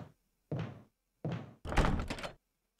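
Dull thunks of locked doors being tried in the Resident Evil HD Remaster video game, three separate rattling knocks spaced apart, the last one longer and louder, with no talk over them.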